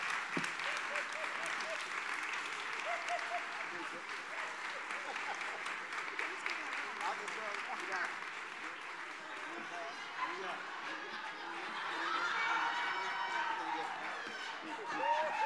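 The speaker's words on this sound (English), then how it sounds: "Round of applause, please." Audience applause at a Hillary Clinton town hall, a steady crowd clapping that continues throughout and swells louder near the end, with some cheering and voices mixed in.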